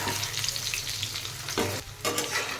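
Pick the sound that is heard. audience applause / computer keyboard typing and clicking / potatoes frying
potatoes frying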